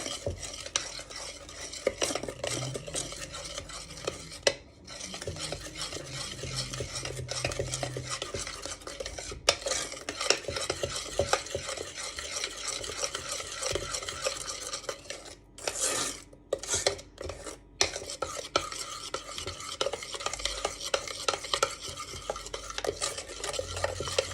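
Butter melting in a pan for gingerbread dough while a spoon stirs and scrapes continuously against the metal, close and busy, with a gentle sizzle underneath and a few short pauses.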